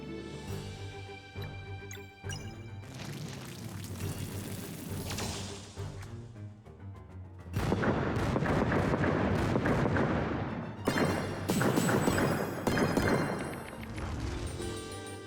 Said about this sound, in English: More artillery sounds great. Get the cannons.